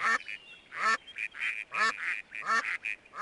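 Ducks quack in a nature documentary advertisement within the You Don't Know Jack video game: a run of about five loud, nasal honking calls spaced roughly evenly, close and clear with no talk over them.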